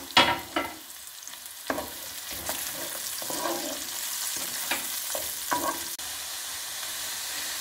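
Spring onion sautéing in olive oil with tomato paste in a pan for an Aegean artichoke and fresh broad bean dish, a steady sizzle with several clinking stirs near the start and intermittent scrapes throughout.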